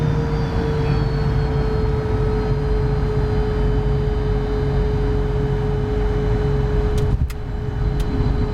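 Fokker 100 jet engines on the landing roll, a loud steady roar with a strong tonal whine from inside the cockpit, and a few brief clicks near the end.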